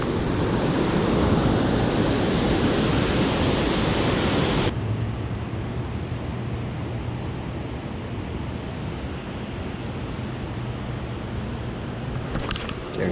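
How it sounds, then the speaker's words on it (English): Strong wind roars across a microphone by Center Hill Dam, loud and gusty for the first few seconds, then dropping to a steadier, softer rush. "there is some heckin' wind"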